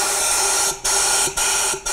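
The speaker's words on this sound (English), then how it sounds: "spray a little bit more fresh cleaner into the galley and blow it out with compressed air" Compressed air blasts loudly through the cleaned secondary air passages of a BMW N62 V8 engine as a continuous close hiss, briefly interrupted twice by short pauses.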